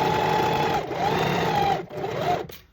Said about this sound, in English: And now I'm going to sew this with a 1/4 inch seam allowance again.